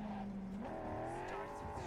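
A car is driven in the video game Cyberpunk 2077, a smooth engine tone that rises in pitch as it accelerates, steady and moderately quiet with no speech over it.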